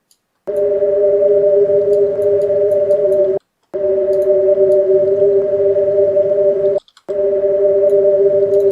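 A Minecraft game sound sample, pitched down into an eerie ambient pad, plays as a loud sustained tonal drone in three long segments separated by short silent gaps, with faint clicks above it.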